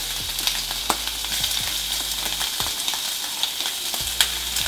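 Pork belly and shrimp frying in a pan for banh xeo, a Vietnamese crepe: a bright, steady sizzle with occasional sharp spatters and spatula knocks, close and loud, no voices.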